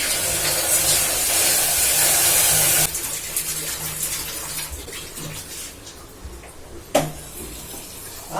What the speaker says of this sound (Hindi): अब मैं इसको धोऊंगी दलिया को।